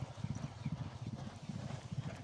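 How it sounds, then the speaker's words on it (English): Racehorses walk through a flat-racing stable yard, their hooves clip-clopping in a steady, rhythmic beat on hard ground, moderately close and fairly quiet. "we've got a battalion of horses coming up now"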